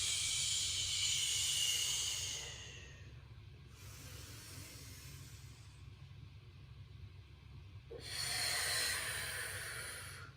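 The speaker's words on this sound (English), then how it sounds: "So a slow 2 count breath would go." A slow, controlled breath during a leg and oblique exercise series: a long, airy hissing breath close to the mic, a quiet pause, then a second long breath, with no talking.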